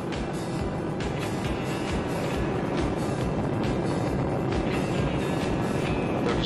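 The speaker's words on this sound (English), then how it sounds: "Liftoff of Shuttle Discovery." Space Shuttle Discovery lifting off, a loud, continuous broadband rumble and roar that holds steady throughout without letting up.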